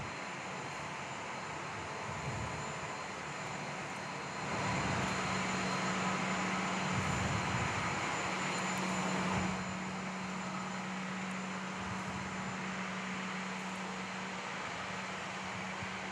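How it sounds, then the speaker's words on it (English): An Airbus A320 airliner on the move at Perth Airport on a wet day, a distant jet roar swelling for several seconds over a constant rumbling background, then easing back. "It's an A320 there."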